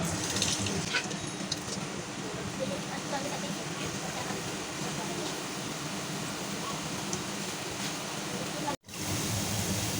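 Bread slices soaked in milk frying in moderately hot oil, a steady broadband sizzle running throughout at even loudness, with a brief dropout near the end.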